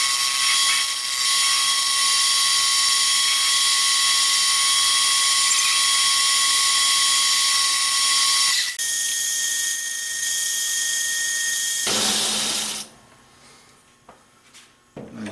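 A lathe or drilling machine runs at 300 RPM on a titanium endcap, giving a loud, steady mechanical whine with sustained tones that shift abruptly partway through, then drops off to quiet near the end.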